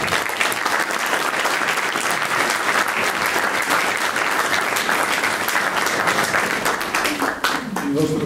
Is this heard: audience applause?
yes